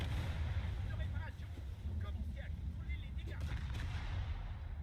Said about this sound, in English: that light is shooting at me. So I'm gonna shoot back.